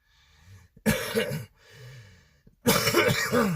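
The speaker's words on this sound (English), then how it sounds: "Obviously, I still have a cough." Two bursts of harsh, loud coughing, each a cluster of hacking coughs, separated by quieter breathy gaps.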